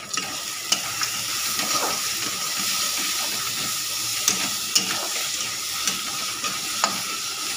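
Fried bori (lentil dumplings) and vegetables sizzle steadily in a pan while being stirred for a potato and eggplant curry, with scraping stir strokes and occasional sharp pops over a continuous close hiss and no talk.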